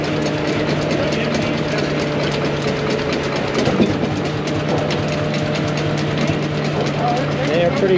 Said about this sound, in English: It's a 15 horsepower Fairbanks Morris Model Y diesel engine.